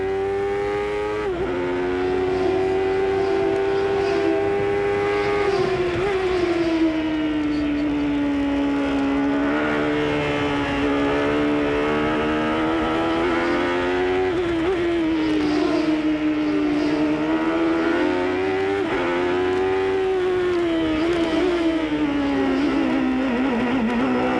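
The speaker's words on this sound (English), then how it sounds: "We've got the onboard telemetry from Chevrolet's engine here on Little Al's car." Onboard engine sound from Little Al's Chevrolet IndyCar at the 1993 CART Detroit race, a loud continuous engine roar whose pitch rises and drops repeatedly as the driver short shifts through the gears.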